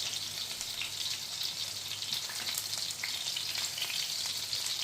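Scotch eggs frying in a pan of hot oil give off a steady, dense sizzle that stays fairly loud and even all the way through, with no talking.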